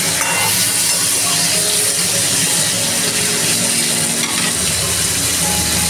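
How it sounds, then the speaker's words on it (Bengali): Pointed gourd (potol) fries in a pan over low heat, giving a steady, close, loud sizzle with occasional stirring scrapes that runs unbroken for the whole stretch. "পটলটা ভেজে নেব।"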